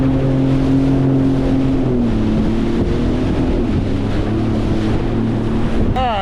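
A Sea-Doo personal watercraft runs offshore, its engine droning steadily under heavy wind buffeting, the pitch sagging slightly partway through before a short rising whine at the end.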